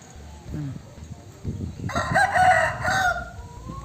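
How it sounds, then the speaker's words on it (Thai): A rooster crows once, a loud drawn-out call rising after a few low rustles and thumps nearby. "ไก่ครับไก่"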